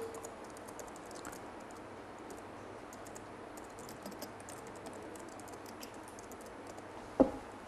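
Quiet typing on a computer keyboard, a loose scatter of soft key clicks over a low background hum, with one sharper tap near the end.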